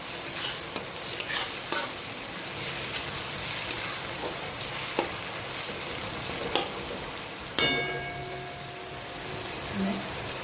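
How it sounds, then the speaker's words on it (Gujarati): Tomatoes sizzle and fry in a pan for spiced paneer gotalo, with a spoon stirring and scraping through the steady sizzle and a few sharper clinks. "હવે ટામેટા એડ કરી લઈશું."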